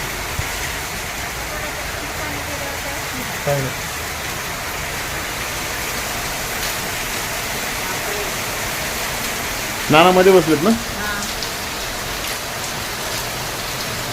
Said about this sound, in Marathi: एवढा जोरात पाऊस चालू आहे हो